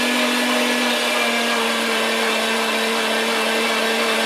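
An electric meat grinder works through partly frozen venison tenderloin for breakfast and Italian sausage, giving a loud, steady motor whine with a constant hum, running unbroken throughout with no speech.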